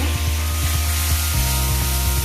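Onion and garlic paste frying in hot oil in a pan while chicken curry is cooked, giving a steady close sizzle with soft bubbling pops throughout.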